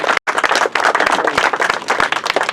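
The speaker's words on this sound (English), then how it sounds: "Let's give them all a round of applause and thank them for the service" A crowd at a Memorial Day observance in a historic cemetery claps for Vietnam veterans, with dense, sustained applause rising and falling steadily after a brief gap at the start.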